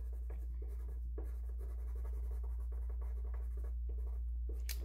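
Colored pencil scratches across paper up close in a drawing workshop, with soft irregular strokes under a steady low hum.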